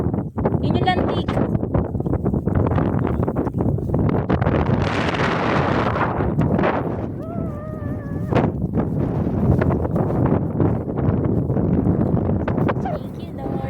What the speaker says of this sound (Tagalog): Grabe, lakas ng hangin natin.